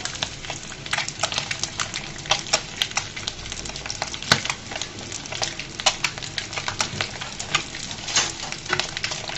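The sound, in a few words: eggs frying in oil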